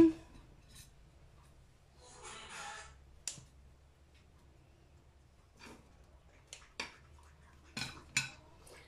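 A knife slices through homemade focaccia bread on a board, giving several quiet, scattered sawing scrapes and sharp clicks separated by near silence.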